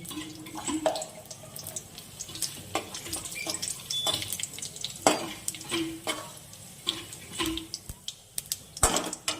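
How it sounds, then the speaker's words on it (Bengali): Dried red chillies and whole cumin tempering in leftover fish-frying oil: a soft crackling sizzle beneath frequent sharp taps and scrapes of a spatula against the pan, fairly quiet and close. "ওই মাছ ভাজার তেলের মধ্যে আমি আর অল্প তেল দিয়ে দিচ্ছি। দুটো শুকনো লঙ্কা ফোড়ন করে নিচ্ছি আর অল্প গোটা জিরে।"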